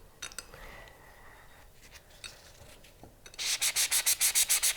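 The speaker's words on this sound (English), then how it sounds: "You sand it" Sanding a silver metal clay piece for a ring, with light scraping and rubbing at first, then a loud run of quick, regular rasping strokes close up near the end.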